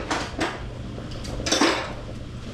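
Flour is stirred into a pot for a roux, with scraping strokes and clattering cookware knocks close by, irregular and moderately loud.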